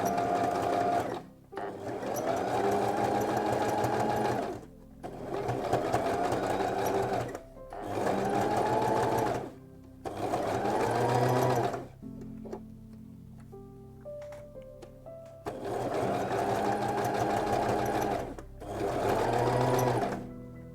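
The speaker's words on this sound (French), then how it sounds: "je surpique à 2 mm de la couture. Je vais faire un plus long point." Sewing machine topstitching a seam two millimetres from the edge with a lengthened stitch, running in several loud, steady bursts separated by short pauses, with a quiet voice heard during one gap.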